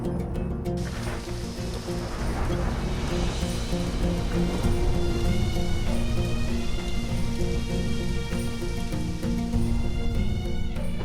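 Heavy rain pours steadily, a dense, loud hiss that builds after the first second and persists, mixed with tonal background music.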